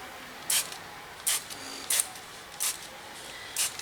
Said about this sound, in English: since my alcohol's in a spray bottle, I am going to gently spray it